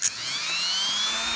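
A Dremel fitted with a 60 grit sanding disc grinds a Porsche 928 intake runner, a steady high-pitched whirring whine with a rough abrasive edge, close and continuous for a brief moment after a short sharp opening hit.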